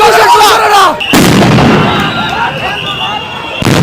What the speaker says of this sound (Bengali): পুলিশ কিন্তু কয়েকটি সাউন্ড গ্রেনেড ছুটিয়েছেন